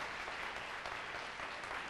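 A church congregation applauds during a Portuguese-language worship service, a quiet, steady wash of many hands clapping heard from a distance with no voices on top.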